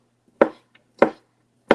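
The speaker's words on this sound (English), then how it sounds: "That sound y'all heard chopping is me chopping potatoes for Jazz food." Three sharp, evenly spaced knife chops through potatoes on a cutting board, close and crisp with quiet pauses between strikes.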